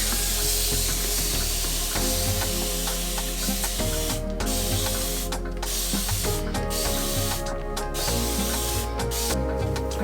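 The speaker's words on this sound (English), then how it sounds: "I'm gonna take my handy dandy spray bottle, and I'm gonna just spray" Repeated hissing bursts from a spray bottle, several quick squirts in a row, close and loud over a steady background hum.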